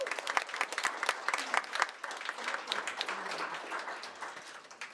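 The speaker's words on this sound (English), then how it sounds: "Let's give them all a big round of applause." Audience applause fills a school district board meeting room, a steady patter of many hands clapping at moderate distance that thins slightly toward the end, with no speech over it.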